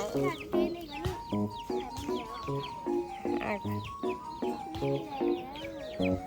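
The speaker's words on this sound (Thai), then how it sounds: "ไก่กินดอกไม้" Chickens cluck repeatedly nearby in short, uneven bursts, with a few higher squawks mixed in.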